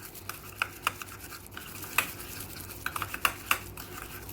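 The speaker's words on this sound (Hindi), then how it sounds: "अच्छे से आपने इसको मिक्स कर लेना है ताकि सब मसाले आप इसमें मिल जाएं।" Chicken marinade of oil and spices being stirred in a bowl, a run of soft wet scraping and clicking strokes, close and fairly quiet, with no talking.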